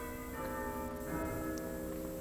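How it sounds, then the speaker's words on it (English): Church bells of St Peter & St Paul in Clare, Suffolk ring with sustained, ringing tones heard from inside the large church, fairly muted with a steady hum of resonance. "We've got the bells ringing at the right time, just as we entered."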